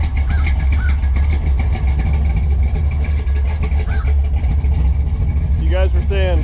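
A 1955 Chevy engine idles while warming up, a steady loud low rumble throughout, with brief voices near the end.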